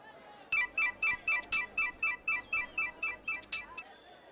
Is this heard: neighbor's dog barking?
no